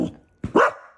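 A single sharp dog bark, close and loud, preceded by a short low grumble.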